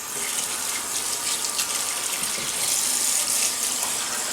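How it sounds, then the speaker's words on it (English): Tap water running steadily from a bathroom faucet into a sink while wetting the face before a shave, a continuous close hiss and splash with no talking. "let me wet the face"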